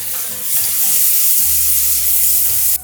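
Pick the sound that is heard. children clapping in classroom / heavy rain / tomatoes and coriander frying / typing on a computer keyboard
tomatoes and coriander frying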